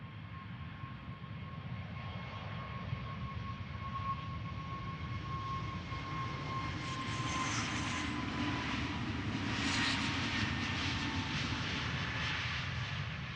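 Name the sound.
Boeing 737 MAX 8 departing Amsterdam Schiphol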